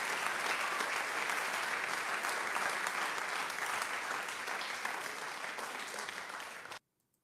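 Steady applause sound effect played over a livestream, dense and even clapping at a constant level for about seven seconds before cutting off abruptly.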